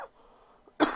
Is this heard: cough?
yes